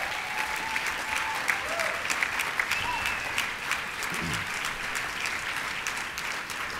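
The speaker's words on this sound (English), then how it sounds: "Willie Burns, please stand up and get a round of applause." A gala audience applauds steadily for Willie Burns, a dense even clatter of many hands that carries on without a break. A faint voice sounds through it.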